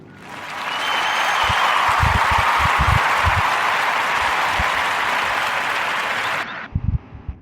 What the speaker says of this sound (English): So let's clap it up for Maya and Kelly.